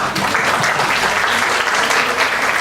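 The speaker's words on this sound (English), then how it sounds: "Applause." Loud, close applause from a classroom of teachers at a training session, many hands clapping in a dense, continuous burst.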